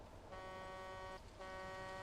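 A vehicle horn in a multiplayer video game sounds two sustained, tonal honks, the first longer and the second following after a short break, moderately quiet over faint background noise.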